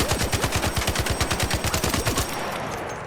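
Rapid automatic rifle fire in ARC Raiders, a weapon with a 37-round magazine, loosing a long sustained string of evenly spaced, loud, punchy shots for over two seconds before cutting off, with no talking.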